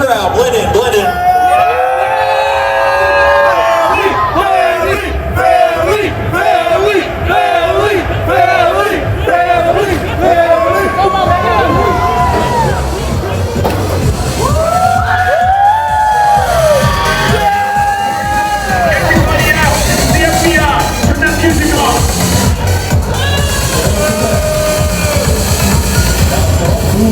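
A loud crowd at a race day after party scene on the Fast & Furious: Supercharged ride at Universal Studios Hollywood cheers and whoops over pumping music, with shouted speech throughout.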